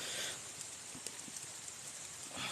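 Rain falls steadily on a forested hill, a broad close hiss with scattered drops and taps that fades briefly and then swells again.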